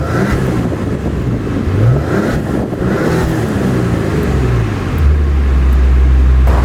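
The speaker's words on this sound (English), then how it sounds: "You can feel how heavy the exhaust has gotten." A 2019 Maserati Ghibli S GranSport in sport mode revs loudly, its deep exhaust rising and falling through several throttle blips before settling into a heavy, close idle drone.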